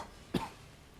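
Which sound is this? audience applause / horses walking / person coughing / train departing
person coughing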